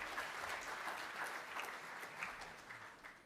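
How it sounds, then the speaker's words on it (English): Applause for a panel at a London Tech Week session, a steady hall-wide round of clapping heard from some distance, fairly quiet and even, without voices over it. "Why don't we have another round of applause for a great panel?"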